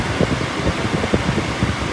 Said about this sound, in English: The best thing about upgrading my car is the aircon.